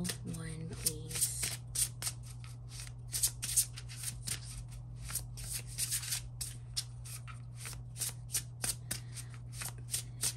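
Tarot cards being shuffled by hand during a card reading, a steady run of crisp riffling flicks and slaps over about ten seconds against a low constant hum, with a brief voice near the start.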